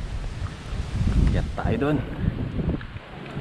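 Wind blows outdoors past a field of sunflowers and mango trees, a soft rushing buffet on the microphone heard under a man's brief speech.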